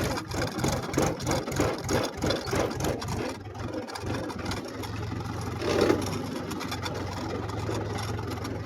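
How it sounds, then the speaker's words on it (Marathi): A diesel tractor engine chugs in a steady pulsing rhythm as it turns in a farm field, then settles into a smoother, continuous idle rumble nearby. "वळविला ट्रॅक्टर वळविला"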